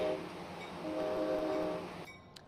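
An Amtrak train running in a train simulator game, a steady rumble with a sustained horn-like tone that swells midway and then cuts off, followed by a brief faint click.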